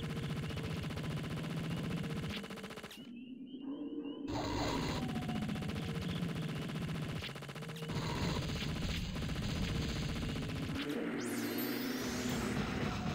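Explosions in the Sega Dreamcast shooter Cannon Spike, loud bursts with a sudden dropout near the start, then continuous booming, crackling game effects and gunfire-like rattling throughout, without speech.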